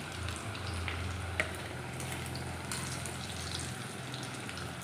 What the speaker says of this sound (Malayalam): ഒരു രണ്ട് മൂന്ന് ട്രിപ്പായിട്ട് നമുക്ക് വറുത്ത് കോരി എടുക്കാം